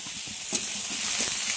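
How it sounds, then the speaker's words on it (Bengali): Eggplant pieces and potatoes fry together in hot oil, with a continuous close sizzle and several soft stirring knocks and scrapes running through it. "বেগুনগুলো আলুর সঙ্গে খুব ভালো করে ভেজে নেব।"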